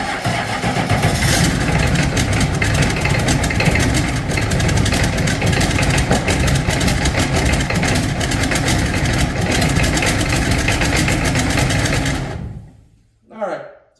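A loud 7.3 IDI turbo diesel engine on an engine stand runs with a continuous rough, rattling roar for about twelve seconds, its manifold not tightened, then cuts off abruptly, followed by a brief quieter sound.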